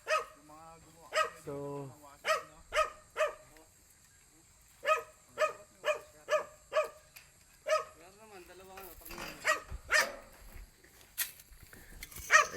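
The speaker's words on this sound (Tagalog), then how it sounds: "si Gasper, ganun pa rin. Tahol ng tahol." Gasper, a dog, barks in a steady series of sharp, loud woofs with short gaps, close by, while a person speaks briefly between barks.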